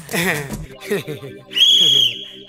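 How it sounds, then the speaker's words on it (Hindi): A sharp, shrill whistle blast rings out for about half a second in a Bhojpuri film scene, coming right after people speak, loud and close. "अरे ई सीटी काहे बजावता"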